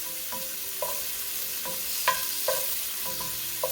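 Shrimp sizzle steadily in a hot pan for a shrimp arrabbiata, with a spatula scraping and stirring through them in several short strokes over a constant frying hiss.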